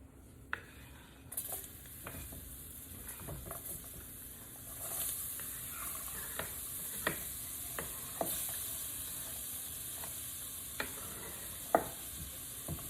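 Chopped vegetables hit a dark roux for crawfish etouffee, starting a soft, steady sizzle under scattered spoon scrapes and clicks against the pot, fairly quiet and close, without speech.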